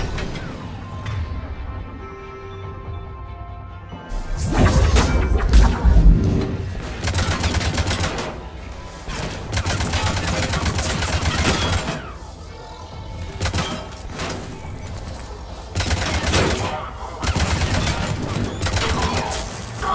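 Loud, dense bursts of gunfire and explosions from cluster grenades in the video game Mass Effect 3, with rapid shots and booming blasts filling the scene almost continuously.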